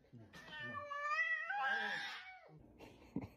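An orange cat lets out a long, close, clear meow that bends upward and then trails off, followed by a short, softer sound near the end.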